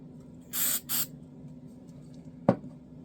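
Two short bursts of CA glue activator spray hiss close by, one after the other, during model assembly, followed later by a single sharp click in an otherwise quiet room.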